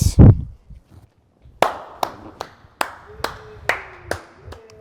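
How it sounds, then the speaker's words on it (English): Sparse, separate handclaps from a small studio audience greeting fighter Ken Shamrock on a comedy talk show, about eight sharp claps in a loose rhythm after an opening burst of noise, close and fairly loud. "I want everybody to give a warm round to applause for Ken Shamrock"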